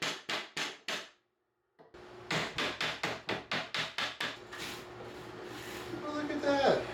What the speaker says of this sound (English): you can remove cabinet faces with a piece of scrap wood and a hammer